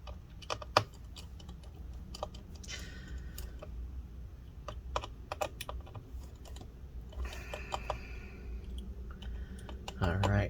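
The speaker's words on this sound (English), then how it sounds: "let's go ahead and continue removing all these screws" Small screws being backed out of a 13-inch MacBook Pro A1989 during disassembly, with scattered light metallic clicks and ticks of the screwdriver and parts over quiet room tone, with a brief burst of louder handling near the end.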